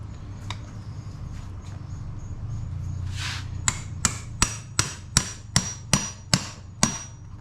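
A hammer drives a pin into a Minn Kota trolling motor bracket: after some light handling noise, about ten sharp metallic strikes land in a steady, evenly spaced rhythm, close and loud with no talking.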